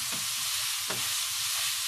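Chopped garlic stir-fries in a wok for olive fried rice, a steady close bright sizzle with soft scraping strokes of the spatula against the pan.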